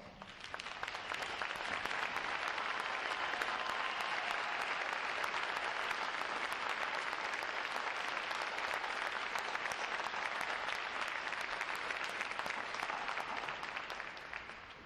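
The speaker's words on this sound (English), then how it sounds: "Would all of our veterans please stand so we can give them a round of applause." Long, even applause from a large crowd at a Navy recruit training graduation ceremony, a dense sustained roar of clapping that holds steady for about fifteen seconds before easing slightly.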